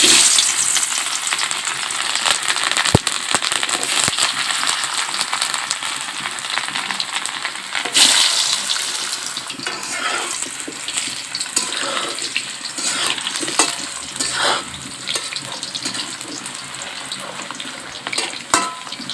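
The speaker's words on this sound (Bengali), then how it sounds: "তেলটা গরম হয়ে গিয়েছে এবারে এর ভিতরে দিয়ে দিব কেটে রাখা আলুগুলো" Cut potatoes fry in hot oil in a wok over a wood-fired stove, making a loud, dense, steady sizzle with occasional sharp knocks and stirring scrapes, heard up close without talking.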